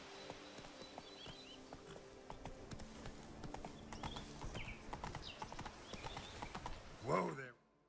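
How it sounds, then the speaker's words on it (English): Roach, a horse in The Witcher 3 video game, trots with steady clip-clopping hooves, joined by a short whinny near the end, with a voice talking over the hoofbeats. "Whoa there, Roach."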